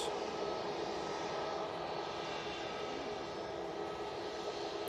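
A Ryanair Boeing 737 MAX 8 with all-blue winglets at Manchester Airport makes a steady, moderately distant jet engine roar that holds level for the whole stretch, with no talk.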